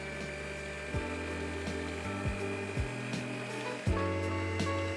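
An electric hand mixer beating three egg yolks with 100 grams of sugar for gelato, a steady close motor whine with the pitch dipping briefly several times as the beaters catch the batter.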